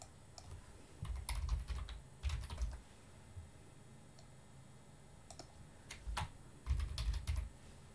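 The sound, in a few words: typing on a computer keyboard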